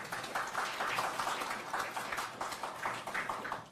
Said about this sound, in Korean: 한 분 한 분 소개해 드릴 때마다 큰 박수 부탁드립니다.